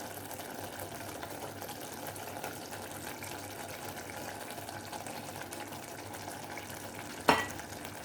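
Fish roe frying in tomato chutney in a pan, a steady soft sizzle with faint stirring scrapes and one sharp clack near the end.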